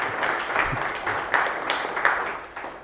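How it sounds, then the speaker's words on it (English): Audience applause at a tech conference on web services and REST APIs, a steady round of clapping from the crowd with a few louder peaks, moderately distant and fading toward the end. "a big round of applause for Progress"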